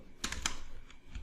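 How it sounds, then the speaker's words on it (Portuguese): An IP address being typed into a browser on a computer keyboard: a quick burst of a few soft key clicks, close and faint, lasting about a second. "E vou digitar esse IP"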